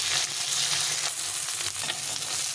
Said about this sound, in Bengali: এখন মাছগুলো এগুলো উল্টে পাল্টে লাল লাল করে মাছগুলো ভেজে নিতে হবে।